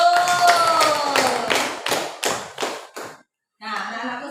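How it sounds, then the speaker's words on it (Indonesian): Classroom hands clapping in a rhythmic patterned sequence of loud, close claps, stopping briefly before children's voices follow. "Untuk bertanya, tepuk tangan dulu."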